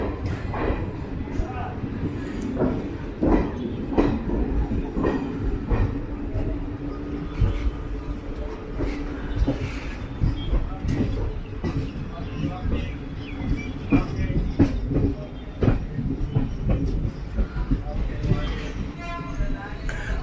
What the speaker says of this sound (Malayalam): നമ്മൾ ജസ്റ്റ് സ്റ്റേഷനിൽ നിന്ന് പുറത്തോട്ട് ഇറങ്ങുന്നതേ ഉള്ളൂ.